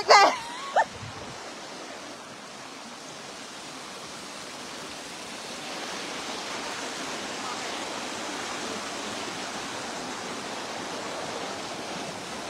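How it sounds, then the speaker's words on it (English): Floodwater pours across a washed-out road in Aiken County, a steady broadband rush that holds through the whole stretch and swells a little midway, with a couple of brief knocks at the very start. "There's 2 or 3 foot of water running down through there right there on both sides."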